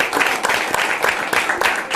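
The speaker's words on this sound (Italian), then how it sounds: "a cui va il primo applauso della serata" A studio audience applauds the Agna sports club (polisportiva Agna) on an Italian evening show, with the evening's first round of clapping forming a close, lively burst of many hands and pulsing sharp claps.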